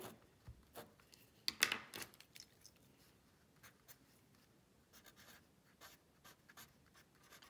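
Pencil or pen scratching on paper while working a math problem on simplifying rational expressions, with short bursts of strokes and scribbles, a louder flurry near the start and then quieter, scattered marks, close and alone.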